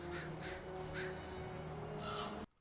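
A crow caws in a scene from Harry Potter and the Goblet of Fire, with four loud, harsh calls spaced across a couple of seconds before the sound cuts off abruptly.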